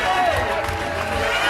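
A bowling arena crowd roars and cheers nonstop after a championship final win at a PBA event, a dense, loud wash of voices and clapping close around, with people talking amid the noise.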